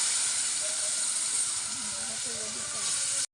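Boiled pumpkin stems and potato hit a hot tempering in the pan, setting off a loud, continuous sizzling hiss that holds steady for about three seconds and then cuts off abruptly.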